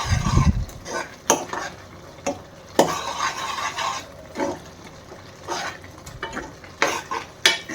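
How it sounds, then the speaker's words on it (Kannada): A spoon scrapes and stirs carrot halwa with a spoonful or two of ghee in a pan, giving irregular close clinks and scrapes over a faint sizzle. "ಅದಕ್ಕೆ 1-2 ಸ್ಪೂನ್ ತುಪ್ಪ ಹಾಕ್ಬಿಟ್ಟು ಲೆಟ್ಸ್ ಗಿವ್ ಅ ಮಿಕ್ಸ್"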